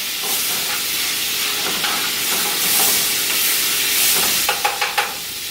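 Minced garlic and minced vegetables sizzling in a pan, a steady hissing fry with occasional stirring and a quick run of four spoon taps against the pan at the end.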